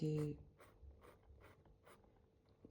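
Graphite pencil scratching across paper in soft, repeated strokes while tidying the inside of a coloured-pencil still life drawing, faint and close, after a brief louder tone at the start.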